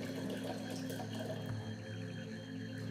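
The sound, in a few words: filling a container with filtered water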